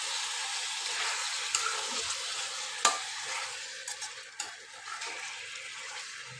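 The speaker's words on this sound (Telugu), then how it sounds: "చికెన్ అయితే మీడియం ఫ్లేమ్లో పెట్టి ఆయిల్లో మంచిగా ఇట్లా ఫ్రై అయితే చేసుకోవాలి మనము" Chicken pieces frying in oil over a medium flame are stirred in a pan. A soft, steady sizzle carries a few sharper scrapes and clinks of the utensil, heard close with no talking.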